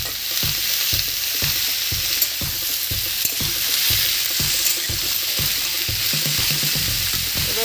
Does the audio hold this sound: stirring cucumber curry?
yes